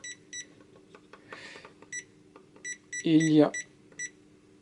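A green 12-line 360-degree self-leveling laser level gives short, evenly spaced high beeps to warn that it is not level, while someone talks briefly over them.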